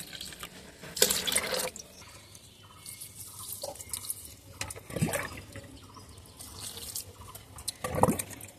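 Liquid homemade organic fertilizer poured into 3 to 4 litres of water, heard as soft dripping and trickling splashes in irregular bursts, fairly close and quiet, with no talk over it.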